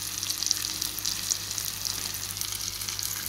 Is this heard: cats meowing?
no